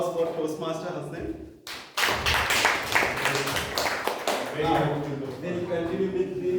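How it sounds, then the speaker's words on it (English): A short burst of clapping from a small audience at a Toastmasters club meeting, several people clapping irregularly and close by, mixed with talk and a brief pause partway through. "Big round of applause for Toastmaster Hassan."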